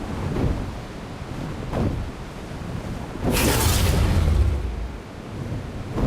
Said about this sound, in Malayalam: നല്ല തണുത്ത കാറ്റ് വീശുന്നുണ്ട്.